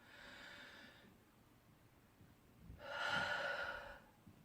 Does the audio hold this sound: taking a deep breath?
yes